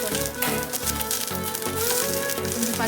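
Finely chopped onions frying in a pan, a steady close sizzle and crackle that runs without pause under soft background music.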